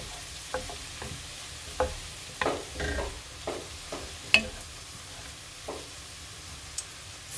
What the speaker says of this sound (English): I'm just going to mix it around here.